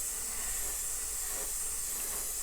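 An airbrush sprays paint in a steady, unbroken hiss onto the trunk lid of a pop bottle Charger model car, a close, constant airy rush with no talking.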